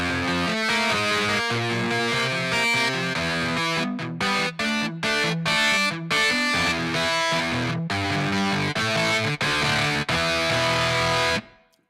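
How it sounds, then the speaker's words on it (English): Electric guitar played through the BYOD distortion plugin gives a crunchy, saturated riff of loud repeated chords with short choppy stops and restarts, ending abruptly. "really, really cool distortion plugin right here called BYOD, Build Your Own Distortion"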